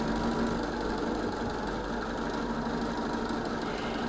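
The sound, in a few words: sewing machine stitching quilt block seam slowly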